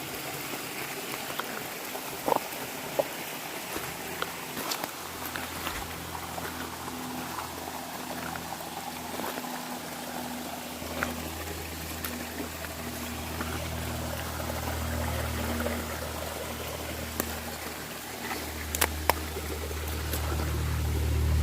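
A mountain waterfall in North Carolina pours steadily, a constant broad rushing roar of falling water with faint knocks and footsteps mixed in, growing slightly fuller near the end.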